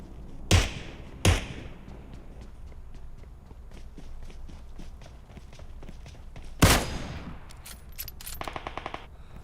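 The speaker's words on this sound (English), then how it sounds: "So we got automatic fire up there, and that is bad." Bursts of automatic gunfire in a first-person shooter video game, with a few loud close shots and sharper rapid volleys near the end, plus scattered footstep-like thuds.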